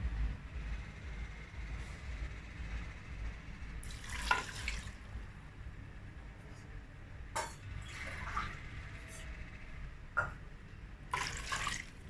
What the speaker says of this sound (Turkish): Şimdi üzerine biraz sıcak su vereceğim.